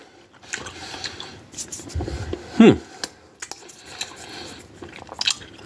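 Someone chews a raspberry Starburst FaveREDs fruit chew up close, with soft, irregular sticky chewing and squishing sounds and one louder bite near the middle, alone without talk.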